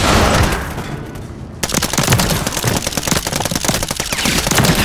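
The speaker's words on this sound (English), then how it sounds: "That was a very awkward gunfight" Rapid automatic fire from a pistol converted into an SMG in a video game gunfight: dense, loud bursts of overlapping shots that crackle steadily for several seconds after a brief quieter lead-in, with no voices.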